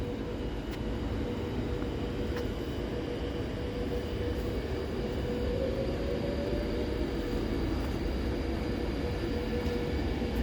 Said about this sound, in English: There's the Pendolino.